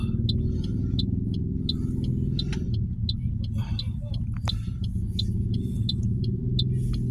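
Busy road traffic with many vehicles makes a steady low rumble, overlaid by a repeated high chirping or beeping and occasional sharp passing noises, while people speak faintly nearby.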